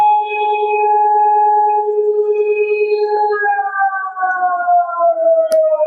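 A Russian emergency alert siren sounds as a steady, eerie multi-tone wail that holds, then shifts to a higher chord and slowly glides downward, loud and electronic throughout.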